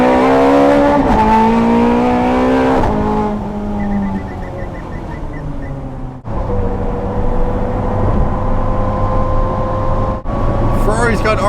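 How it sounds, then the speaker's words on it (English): A Ferrari V8 supercar accelerates up a freeway on-ramp, its engine and exhaust climbing through loud rising revs with a gear change and a sustained roar, heard from inside the car. "Ferrari's got arguably one of the best sounding exhaust notes out of any supercar."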